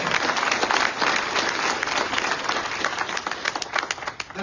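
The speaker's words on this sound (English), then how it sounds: "You should clap for the interns." A town hall audience claps for interns, giving a fairly loud burst of crowd applause that thins toward the end into scattered individual claps.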